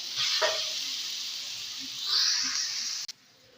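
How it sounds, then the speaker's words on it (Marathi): Grated carrot hits hot ghee in a kadhai with a bright, steady sizzle, swelling louder midway with a few light stirring clinks before it cuts off abruptly near the end. "आता एक कढईमध्ये बारीक पीस केलेला गाजर घालून घेऊया."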